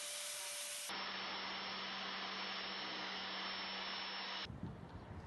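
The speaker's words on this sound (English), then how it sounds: "what happens when you try and change the guard while the angle grinder is still turned on" An angle grinder runs steadily with a loud, close, continuous high whine for several seconds, its pitch shifting slightly as the guard is handled while the tool stays switched on, ending in a rougher sputter.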